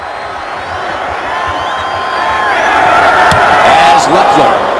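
Steady roar of a football stadium crowd at a Chiefs home game against the Texans, a dense wash of voices swelling louder toward the end, with a commentator talking over it.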